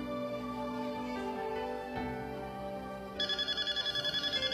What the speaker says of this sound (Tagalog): Saan yung telepono?